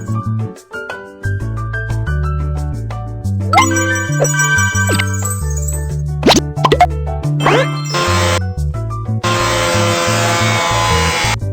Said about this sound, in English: The new log is too long. Please cut it short.